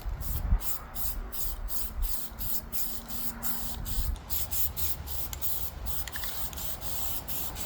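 An aerosol can of rust primer sprays onto truck wheels in a rapid series of short hissing bursts, close and regular, with faint background noise between them.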